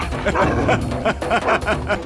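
Wild dogs bark and yip in quick repeated bursts, a busy overlapping pack sound with some whimpering, fairly loud and close in a TV drama scene.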